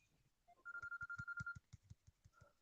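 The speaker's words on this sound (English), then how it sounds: "Just got to take this phone call." A phone ringing for an incoming call, a rapid electronic ringtone of repeated short pulses with a steady tone over them, fairly faint and alone before stopping abruptly.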